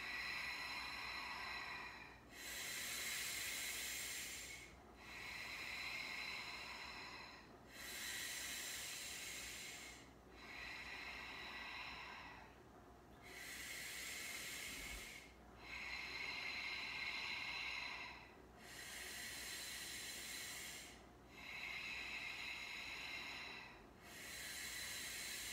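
Slow, deep human breathing during a breathing exercise: long airy inhales and exhales repeat in a steady rhythm about every three seconds, close and soft, with no talking.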